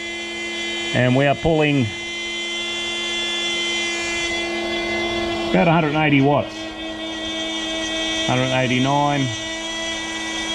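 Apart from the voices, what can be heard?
blender running on inverter power, battery charger charging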